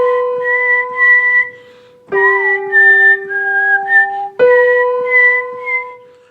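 A Flutino whistle plays clear, bright sustained notes in three short phrases with brief breaks between them, close and loud, with no voices.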